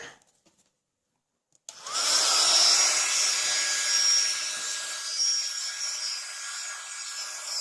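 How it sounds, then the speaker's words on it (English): A heat gun switches on with a click and then blows steadily with a loud, hissing whine that continues without pause. "Just excuse the noise while I heat up the heat gun"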